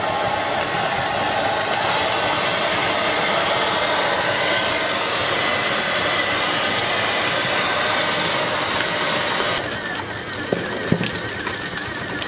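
A food mixer robot running steadily while its vat is heated to dry out nougat, a loud continuous motor whir with broad hiss, ending with a few small clanks.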